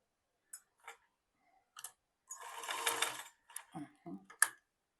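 Sewing machine stitching a baby elastic frock in short bursts, with one longer steady run of stitching in the middle and brief mechanical ticks around it, close and fairly quiet.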